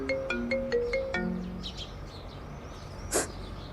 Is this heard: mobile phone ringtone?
yes